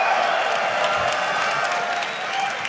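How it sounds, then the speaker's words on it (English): Steady applause from a live esports crowd after a League of Legends match victory at a 2014 challenger series event, dense and continuous clapping throughout. "Rightful applause after that victory for you guys."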